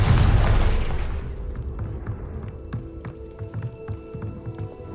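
A Confringo blast spell bursts in Hogwarts Legacy, opening with a loud, booming low-end explosion that rolls off over the first second or so, followed by a quieter tail of scattered pops and taps over steady game ambience.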